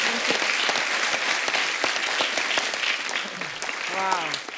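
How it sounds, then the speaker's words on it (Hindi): Studio audience on The Kapil Sharma Show, a comedy show, applauding a women's cricket guest with a steady, dense wash of clapping. A voice rises over it near the end as it fades. "सबसे पहले इस बात के लिए तालियां, ये फाइनल्स में पहुंचे आप"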